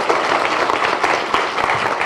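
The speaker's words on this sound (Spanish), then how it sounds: "Y un aplauso, por favor, para nuestros panelistas" Audience applause for the panelists at the close of a panel on artificial intelligence and disinformation: steady, dense clapping from a sizeable crowd, fairly loud and continuous with no talk.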